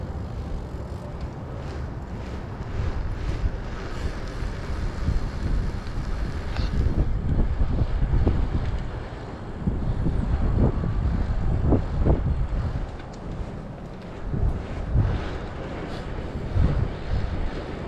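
Cold wind buffets an outdoor microphone in a deep, continuous rumble that swells into stronger gusts and briefly eases, with no voices.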